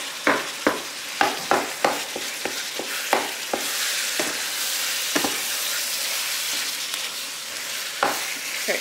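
Five pounds of meat browns in a single frying pan with a steady loud sizzle, broken by repeated sharp scraping clacks of stirring, close up and without talk.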